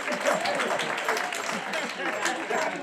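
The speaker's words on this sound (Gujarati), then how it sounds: "તાળી વગાડો, પોતાના માટે વગાડો, મારા માટે નહીં." An audience claps at a Gujarati talk, with dense, steady applause filling the room throughout. Voices and cheers from the crowd mix in with the clapping.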